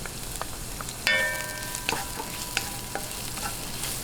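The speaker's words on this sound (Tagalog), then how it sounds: "Atin lang pong gisa-gisahin hanggang mag-light brown." Aromatics sauté in hot oil for Filipino stuffed squid, a steady, moderately quiet sizzle broken by several light clinks of a spatula or utensil against the pan.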